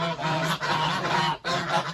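Geese honk loudly and continuously at close range, a dense overlapping chorus of nasal calls with one brief pause.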